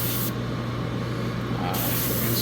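A can sprays gold paint onto Gundam model kit knee parts, a steady hiss of just over a second over a constant background hum.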